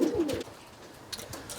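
Roller pigeons coo softly in a breeding loft, one short throaty coo up front followed by quieter rustling and faint calls, close by and alone.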